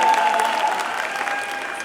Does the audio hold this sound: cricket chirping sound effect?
no